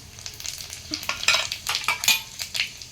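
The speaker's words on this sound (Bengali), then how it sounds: "এখানে 5 ফোড়ন আর 2টো শুকনো লঙ্কা নিয়েছি, তেলেতে দিয়ে দেবো।" Panch phoron and two dried red chillies sizzle in a little hot white oil in a kadai while being stirred for a pineapple pickle, a close, steady crackle broken by spoon scrapes and clinks.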